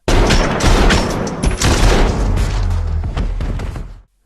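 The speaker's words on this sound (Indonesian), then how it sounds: "Ketika Haris melihat Brain, ia pun langsung memberondong Brain" A loud, sustained burst of rapid gunfire in an action film rattles for about four seconds with heavy booming impacts, then cuts off abruptly.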